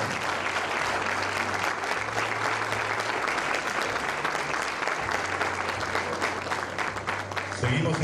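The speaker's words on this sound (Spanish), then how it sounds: "y las fotos, un fuerte aplauso para eso." Applause fills a university graduation ceremony as a graduate's photo is taken, with dense, continuous clapping from a large audience that runs for about eight seconds while voices talk underneath.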